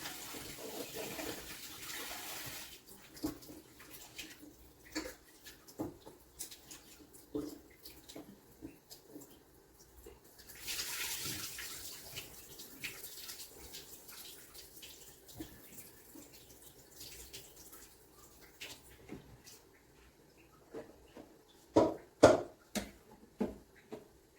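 Water splashes and trickles in irregular bursts, with a few louder sloshing pours near the end, fairly close and without speech.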